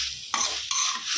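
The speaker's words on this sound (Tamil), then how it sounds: "கொஞ்சம் நல்லா வதங்கணும்." Sorrel leaves (pulicha keerai) sauté in a pan over a strong flame, a short close sizzle broken by two sharp stirring scrapes of a spatula.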